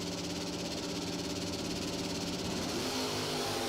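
A big blue wagon drag car at a doorslammer drag racing event holds a loud, steady engine drone with dense rumbling harmonics at the starting line, pitch shifting slightly near the end, with no voices over it.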